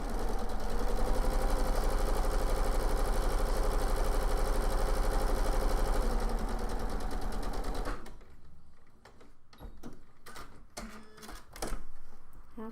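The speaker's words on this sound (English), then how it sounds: "I'm now going to sew 1/4 inch down the other side." A sewing machine stitches a quarter-inch seam along a drawn line on two fabric squares for a quarter-square triangle, running in a fast, even mechanical whir for about eight seconds, then stopping and leaving scattered clicks and handling noises.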